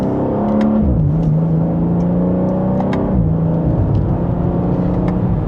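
A 2026 BMW M2 accelerates from second gear, its engine note climbing in a steady droning hum, dipping at shifts and rising again, heard loudly from inside the cabin.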